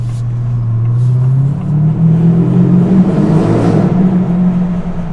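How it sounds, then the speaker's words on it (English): A deep V8 engine of a 2024 Ford F-150 Raptor R truck rumbles steadily and then revs higher, its throaty pitch rising and holding loud and close throughout. "You really cannot beat that V8 sound."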